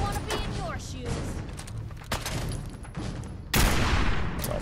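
Gunfire in the video game Fallout 4 crackles in close, repeated sharp shots, ending in a loud burst of noise.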